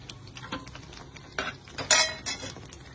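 Whole spices such as bay leaf, cinnamon, star anise, cardamom and cloves, plus lemongrass and galangal, stirred in a pan for tripe curry: a few sharp metal utensil clinks and scrapes against the pan, close and clear.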